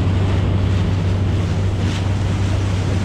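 Fishermen's boats motoring away across open water, a steady low engine drone under constant wind buffeting and wave wash, close and loud with no pauses.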